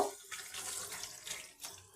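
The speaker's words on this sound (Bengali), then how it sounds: "পানি দিয়ে দিলাম" Water pours steadily into a pan of fish during a village-style Bengali fish curry, a continuous splashing rush lasting about two seconds with no voices.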